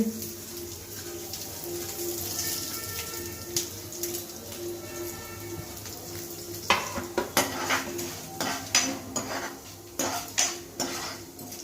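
Coriander seeds, urad dal and cumin are dry-roasted in a pan while a metal spoon stirs and scrapes, giving clattering knocks that grow sharper and more frequent toward the end over a soft background hum.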